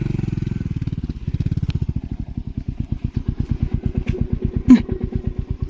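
A Royal Enfield motorcycle being ridden, its engine putting out a close, steady, deep thump that stays even at a moderate pace, with a brief clunk near the end.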